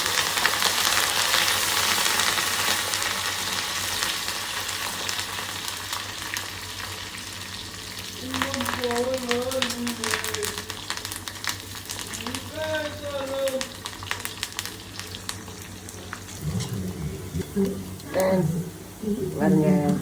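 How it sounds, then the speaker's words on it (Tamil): Squid (kanava) frying in hot oil in a pan, with a steady loud sizzle broken by sharp pops and bursts, while a person talks over the cooking. "இதெல்லாம் இதை டப்பு டப்புன்னு வெடிக்கிற டைப்."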